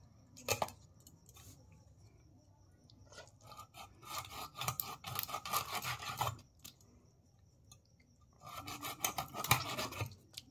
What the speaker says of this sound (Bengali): এত পিছলা মাছটা যে কাটছি ছাই ছাড়া